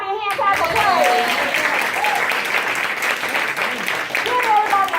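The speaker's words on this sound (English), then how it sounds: "give everybody a hand clap of praise" Church congregation clapping hands in praise, a loud, dense wash of applause that fills the whole stretch, with a few voices calling out over it.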